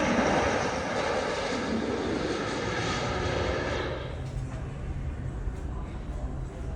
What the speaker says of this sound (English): It's the 777 from Atlanta.